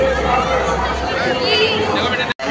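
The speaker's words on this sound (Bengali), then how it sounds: "চন্দননগরে 1 নম্বর প্ল্যাটফর্মে ভিড়টা শুরু দেখা" A dense crowd fills platform 1 of Chandannagar railway station during Jagadhatri Puja, a continuous close wash of overlapping chatter and footsteps with many voices talking at once.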